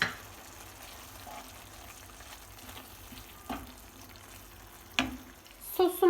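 Pasta is sautéed in a pan with parsley under a soft, continuous frying hiss, with occasional scrapes and knocks of a utensil growing louder toward the end.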